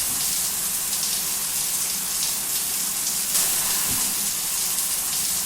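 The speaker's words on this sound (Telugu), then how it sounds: "ఏంటిది, నీళ్లు సరిగ్గా రావట్లేదు. ఆగి ఆగి వస్తున్నాయి." Cold shower water sprays and splashes steadily in a bathroom as a constant hiss with no voices.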